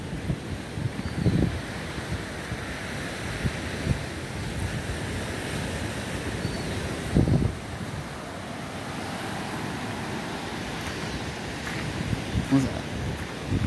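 Steady surf roar with waves breaking on the shore and wind buffeting the microphone, a couple of louder wave crashes standing out.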